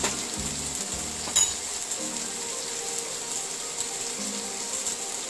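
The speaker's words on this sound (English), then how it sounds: "first dry spice I'll add is turmeric powder and cumin powder" Turmeric and cumin powder sizzle in hot oil for a prawn curry, a faint, steady frying hiss with a sharp clink of a utensil early on and light stirring scrapes.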